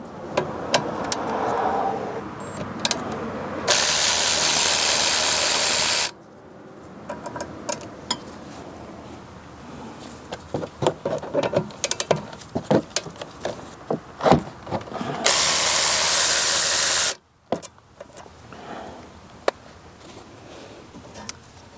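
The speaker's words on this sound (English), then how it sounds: "remove these two bolts holding the caliper on" A ratchet works on the rear brake caliper bolts of a 2013-2017 Honda Accord, with two sustained loud buzzing bursts separated by scattered clicks, taps and metallic knocks up close; no voices.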